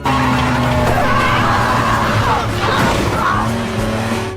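In a movie scene, a race car runs wide on a corner and slides off the track. Loud tire screeching and engine roar continue without a break from start to finish.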